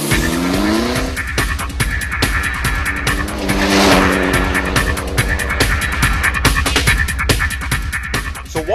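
A Mahindra Super XUV500 rally car is driven hard on a rally course, with the engine revving continuously under loud, close cabin noise and repeated tire squeal and skidding.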